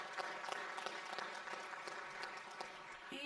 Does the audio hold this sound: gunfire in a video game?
no